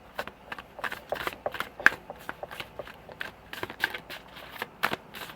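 Tarot cards shuffled by hand in a rapid series of crisp riffling snaps and flicks, close and fairly quiet, with a few cards slipping loose and landing.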